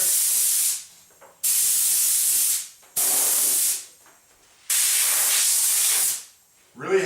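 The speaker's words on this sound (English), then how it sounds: "I'm just going to give it a blow with my compressor" An air compressor nozzle blasts dust off a plastic laminate countertop in four loud, close hissing bursts, each lasting about a second and a half with short gaps between them.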